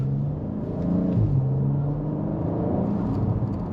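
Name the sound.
car exhaust burble coming off throttle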